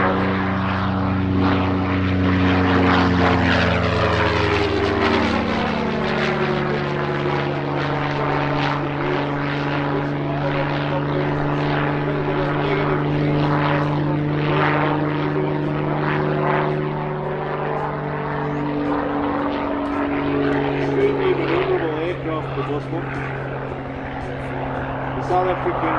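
A propeller plane sweeps past at an airshow in Middelburg, Mpumalanga, South Africa, its engine drone loud and steady with a pitch that bends as it passes, while an announcer talks over it.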